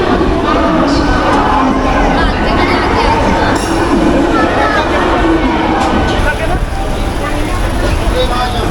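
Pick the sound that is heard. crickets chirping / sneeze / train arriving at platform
train arriving at platform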